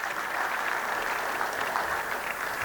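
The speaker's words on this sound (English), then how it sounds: "Can we clap for him, please?" Audience applause at an annual lecture and fellows' induction ceremony, a steady dense clapping from a sizeable crowd that holds at an even level throughout, with no talk over it.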